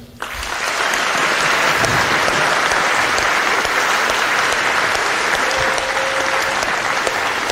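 A basketball crowd at an Illinois Wesleyan home doubleheader against North Central breaks into loud, sustained applause while rising to its feet, with dense clapping that holds steady throughout.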